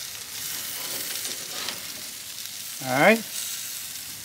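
Vegetables sizzle on a hot grill in a steady, moderately loud hiss that runs throughout, with a short voice and a brief scraping stir near the end.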